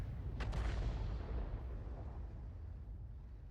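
A tank's main gun fires once in a video game, a loud close boom that trails into a long rolling rumble with no talk.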